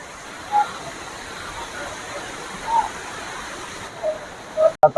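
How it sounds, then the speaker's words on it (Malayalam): A forest waterfall in Pathanamthitta, Kerala, gives a steady, even rush of falling water close by, with a few brief vocal sounds rising over it and a sharp knock right at the end. "കുത്തി ഒലിക്കുന്ന വെള്ളച്ചാട്ടമാണ്"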